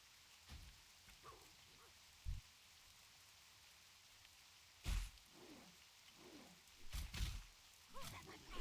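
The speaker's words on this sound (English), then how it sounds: "Let's listen to some rain." Rain sounds play quietly during a game stream, a soft, even patter with a few sharper drops and thuds scattered through it.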